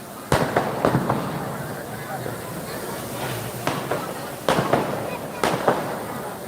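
Fireworks burst at Sachkhand Sri Hazoor Sahib during Vaisakhi, with sharp cracks and bangs at irregular intervals over a constant crowd hubbub and background chatter.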